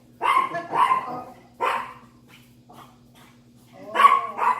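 A small dog barks close by in short bursts, a few quick yips, a pause with faint sounds, then two more sharp barks.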